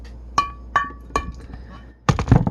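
A 32 oz glass King Cobra malt liquor bottle is handled, giving three sharp glassy clinks with ringing tails, then a louder cluster of knocks and rattles close by.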